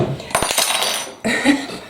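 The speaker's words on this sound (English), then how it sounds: "Clatter. I'm just going to pop the lid back on a sec just to retain the heat." A metal pot lid clatters in a home kitchen while mushroom stroganoff cooks: sharp, close metallic knocks and rattles in two short bursts.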